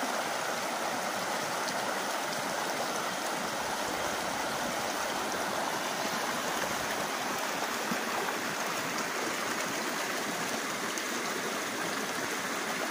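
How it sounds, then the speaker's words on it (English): A creek in a national forest camping area flows steadily, its close, even rush of water filling the scene without pause or voices. "Just listen to the sound of this creek."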